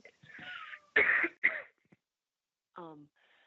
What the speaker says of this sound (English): I'm going to cough, and I'm going to try not to do it real loud.